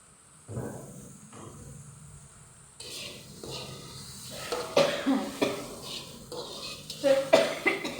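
Repeated coughing fits, close and raspy, brought on by a fan, come in several bursts over steady background hiss and room noise.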